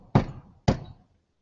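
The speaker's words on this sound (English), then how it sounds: "Next, we need to knock out our last puck" Two sharp, close knocks as a used coffee puck is struck out of an espresso portafilter, each thud ringing out briefly before the next, with no talking.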